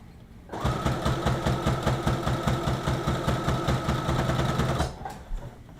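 A sewing machine stitches lace onto a dress waistband in a steady, fast mechanical whir that runs for almost five seconds and then stops, with no talking.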